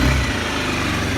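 A Honda CBR RR motorcycle engine idles on a cold Wisconsin day at nine degrees, giving a steady, close, low rumble with even firing pulses for just over a second.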